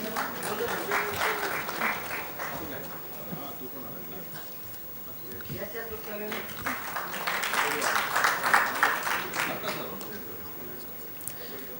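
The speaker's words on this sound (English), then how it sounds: "So let's have a round of applause, ladies and gentlemen." Audience round of applause at a freight forwarders' business convention session, a sustained wash of clapping that swells and fades over several seconds, with voices mixed in.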